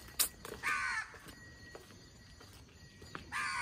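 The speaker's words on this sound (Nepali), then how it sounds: "काग कराउने" Crows caw on an empty road, with a few hoarse calls spaced out across a quiet background, fairly distant and soft, with faint knocks between them.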